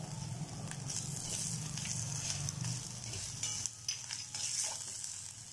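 Ground spices with turmeric roasting gently in a pan over a low gas flame, giving a quiet, continuous sizzle with a few soft stirring scrapes toward the end.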